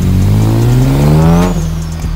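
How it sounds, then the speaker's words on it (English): Acura CL 6-speed engine revs up loud and near with a steadily rising pitch, then drops off as a thin blow-off valve whistle hisses over the engine at the end. "Let me hear that blow off. Hear that blow off."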